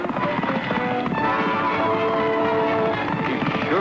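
A horse gallops in a continuous rush of hoofbeats, loud and close, blended with a dense musical score throughout.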